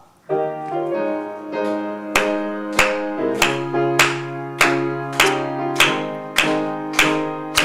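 A church congregation claps firmly in a steady beat along to a sung hymn at a Wednesday prayer service, the sharp regular claps standing out clearly over the sustained voices.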